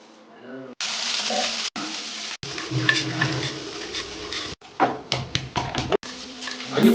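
Spices sautéing in a pan for a curry, with scraping and clinking of a utensil against the pan over a steady sizzle, broken by brief pauses and sharp knocks toward the end.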